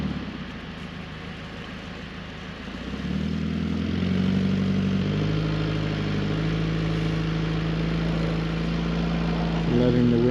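A Toyota truck's engine idles and rumbles steadily, growing louder and fuller partway through as the truck is winched slowly upward, the low drone continuing to the end.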